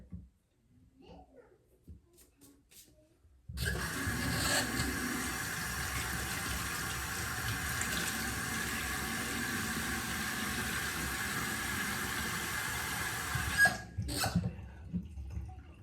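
Water gushes steadily from a tap for about ten seconds, a broad rushing hiss that starts and stops abruptly, with faint sounds before and after.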